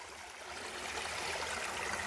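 Stream water flowing past a spot scouted for coyote trapping, a steady close rushing and gurgling wash with no voices over it.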